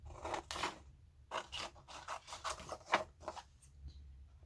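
Scissors cut around a shape in paper in a quiet room, with short crisp snips and soft rubbing scrapes coming in uneven bursts, close and faint.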